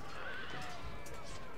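A horse neighs amid the clamor of a Tokugawa versus Takeda battle video game, a high whinny rising over dense, steady battlefield noise.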